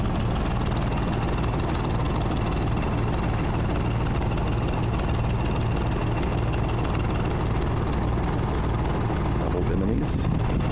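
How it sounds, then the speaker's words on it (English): A steady, low inboard diesel engine runs on a 1985 Tartan 34-2 sailboat, a smooth continuous drone heard close with no change in pace throughout. "And you can hear the engine running."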